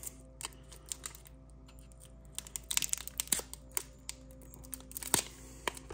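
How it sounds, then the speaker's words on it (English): Foil hobby packs of 2021-22 Upper Deck hockey trading cards being torn open, giving scattered crinkles and sharp tearing bursts with card shuffling, close and fairly quiet with no talking. "Packs are not the easiest to open."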